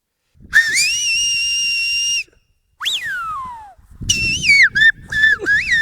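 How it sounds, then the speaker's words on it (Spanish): Loud, piercing Silbo Gomero whistled language from La Gomera: one long sustained note and then sliding, swooping phrases that rise and fall like whistled speech, separated by short pauses. "el silbo de La Gomera"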